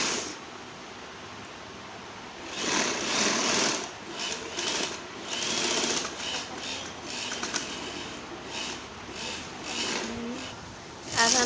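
A sewing machine runs in bursts while stitching the shoulder seam of a kurti, its fast mechanical whirr steady and moderately loud against a quiet room.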